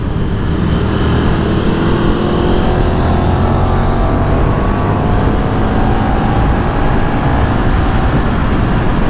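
A 2024 KTM 1390 Super Duke R EVO motorcycle riding on a race track, a steady loud engine drone with heavy wind rush throughout.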